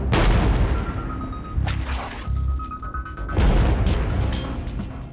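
Steyr SPP pistol fired in a series of loud, booming shots, three distinct bursts spaced across the span with echoing decay between them and no talking.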